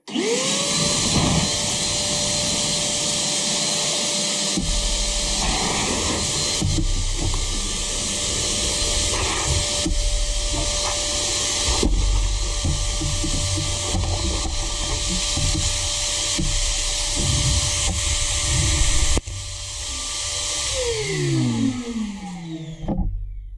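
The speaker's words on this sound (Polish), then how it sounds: "Włączam. Tu jest rura. Odkurzacz jest z tyłu, go nie widać" A Parkside PWD 20 B2 1300 W wet and dry vacuum cleaner runs steadily with a loud airy whine and hiss, its motor drone continuing without a break before it winds down and cuts off at the end.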